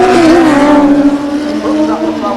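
Drag racing motorcycles at Santa Pod in 1990, a one-off Yamaha 1200 and a Suzuki side by side, with a loud, steady, high engine drone and shifting pitch under a commentator's voice.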